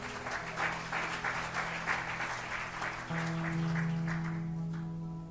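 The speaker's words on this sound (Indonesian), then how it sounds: "Kita berikan tepuk tangan buat Tuhan." A church congregation applauds during a sermon, a steady wash of clapping that carries on for several seconds under a sustained musical tone.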